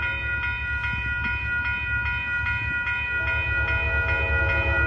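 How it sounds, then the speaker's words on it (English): An Amtrak Coast Starlight passenger train led by a P-42 locomotive rolls by on Fruitvale Ave in Oakland, its loud, close rumble carrying a sustained horn blast and regular clicking of wheels over rail joints. "here comes your northbound train, Amtrak Coast Starlight train number 14"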